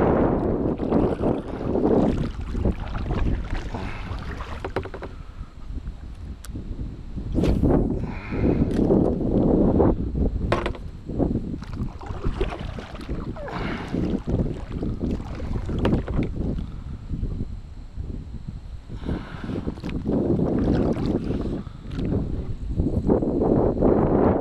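Wind buffeting a kayak while fishing for largemouth bass on open water, a steady rushing roar with gusty swells and occasional knocks and water splashes against the hull, loud and close.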